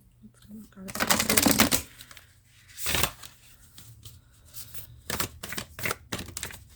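Tarot cards are pulled and shuffled from a deck, making close papery flutters and slaps in several bursts, with a voice speaking intermittently between them.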